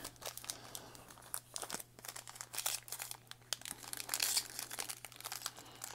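A 2020 Panini Extra Elite card pack being torn open, with continuous loud, close foil crinkling and crumpling over a low steady hum.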